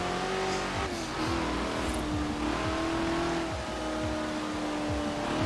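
A Ford F-100 pickup with an engine swap in Forza Horizon 4 roars steadily and loudly throughout, revving with gear shifts and no talking.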